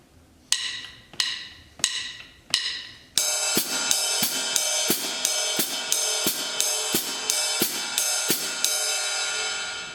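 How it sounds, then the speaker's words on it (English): A drum kit plays a steady pattern of quarter notes on the ride cymbal with the hi-hat foot filling the eighth notes between. Evenly spaced, ringing strokes start sparse, then thicken into a denser, sustained shimmer, close and clear with no talking. "We're going to be playing quarter notes on the ride cymbal and then the eighth notes"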